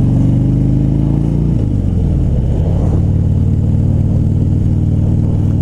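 A 2016 Harley-Davidson Low Rider motorcycle engine is loud and close, with a deep rumbling idle that rises and shifts in pitch as the throttle is worked, steady throughout with no talking.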